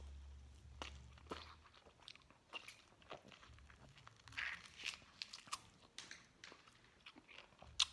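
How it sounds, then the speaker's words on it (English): Biting into a whole lemon with the tough skin still on, giving a series of soft crunching and chewing sounds close up, irregular and fairly quiet, with no voice. "So we'll get on to biting the lemon and seeing how that goes."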